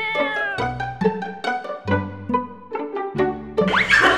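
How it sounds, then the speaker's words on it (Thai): A male cat meows repeatedly in a quick series of loud, close, tonal cries, some rising into a drawn-out wail near the end, with no talking. "เป็นแมวจริงๆนะไม่ใช่แมวปลอมมาจากการ์ตูน"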